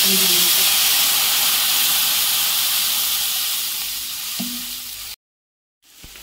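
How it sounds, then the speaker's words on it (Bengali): Water poured into hot oil with whole cumin and whole chillies for sorshe ilish, a loud, close, steady hissing steam sizzle that slowly fades before cutting off abruptly. "গরম তেলের উপরে গোটা জিরে আর গোটা লঙ্কা দিলাম। এটা ভাজা হয়ে গেছে। এবার এর মধ্যে জল দিয়ে দেবো।"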